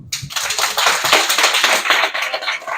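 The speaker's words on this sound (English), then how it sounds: "let us take a moment to clap ourselves" Audience members at a celebratory corporate gathering clap together, a dense, steady burst of many hands close by, running throughout with no voices.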